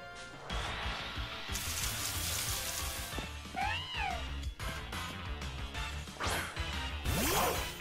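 A cat Pokémon's cry rings out during a battle in Pokémon Sword: sharp rising-and-falling meows mid-clip, set against loud, busy battle music and crashing effects, with no talking.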